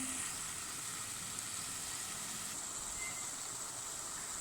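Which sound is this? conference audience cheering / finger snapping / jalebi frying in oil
jalebi frying in oil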